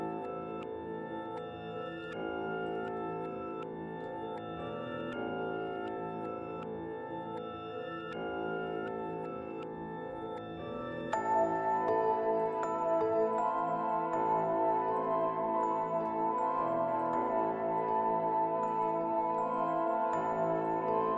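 Pitched-down, reversed and time-stretched melodic sample in an FL Studio beat, soft sustained tones that grow fuller and louder about halfway through, steady and alone.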